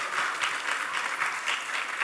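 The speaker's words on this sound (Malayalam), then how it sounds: "നല്ലൊരു കൈയടി എടുക്കാം" Dense, steady applause from an audience at a TV cinema-serial awards ceremony, with many hands clapping evenly at a moderate distance throughout, with no voices on top.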